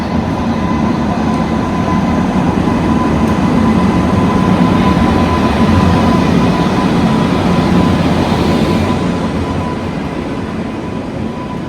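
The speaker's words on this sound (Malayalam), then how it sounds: "തിരുവനന്തപുരം നോർത്ത് ചണ്ഡിഗഡ് കേരള സമ്പർക്രാന്തി എക്സ്പ്രസ് എന്നിവിടെ വന്നിട്ടുണ്ട്" The Kerala Sampark Kranti Express rolls into Ernakulam Junction, a loud, steady rumble of wheels and carriages with a faint tonal hum throughout, easing slightly toward the end.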